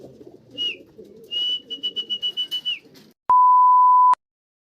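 Racing pigeons cooing softly at the loft after a 92 km training flight, a few low murmuring coos followed by a rhythmic run of short pulses, with a high electronic tone and then a loud steady beep at the end.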